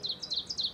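Cartoon birds chirp in quick high bursts, several short tweets in an uneven rhythm, close and clear with no other sound.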